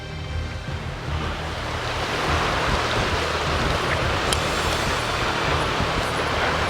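Steady rushing flow of the River Liddle at a shallow ford in the Scottish Borders, a broad continuous wash of water that swells slightly after the first couple of seconds and holds loud and close, with no voices.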